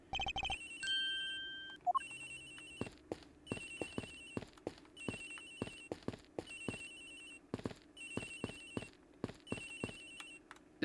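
Phone ringtone in the game Ace Attorney Investigations, a repeating electronic ring pattern of short bursts heard on board a plane, interleaved with sharp footstep-like clicks, loud and close, with no speech.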